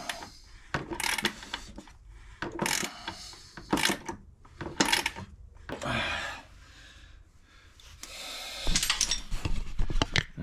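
Nut being tightened on a Teraflex Falcon 3.1 piggyback shock mount on a Jeep JKU front end: close, irregular metallic ratcheting and clicking bursts separated by short pauses, with some handling noise.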